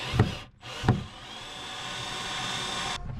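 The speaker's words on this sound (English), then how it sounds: "I'm gonna put 4 screws holding the crate onto the pieces of wood" A power screwdriver drives screws into wood pieces to fix a kayak crate, with two short thumping bursts followed by a sustained whirring drive that stops abruptly near the end.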